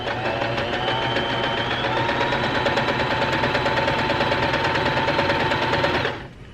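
A domestic sewing machine runs a center-line straight stitch in one steady, fast mechanical whir with an even rhythmic chatter, close and loud, then stops abruptly near the end.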